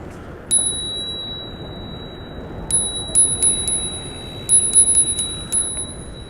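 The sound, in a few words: bicycle bell ringing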